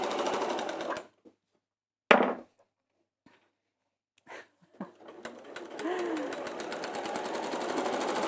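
A sewing machine runs a straight stitch in short bursts of rapid, even clatter broken by silent pauses, then settles into a longer continuous run, close by and moderately loud.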